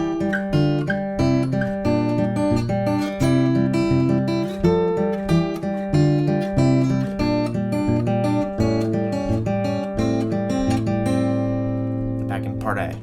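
Acoustic guitar fingerpicking the second ending of a song in a clear, close, melodic pattern of plucked notes, ending on a final ringing chord.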